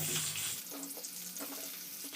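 Washed pointed gourd pieces dropped into hot oil, a sudden loud hiss at first that settles into a steady close sizzle with light crackling over about two seconds, no voices.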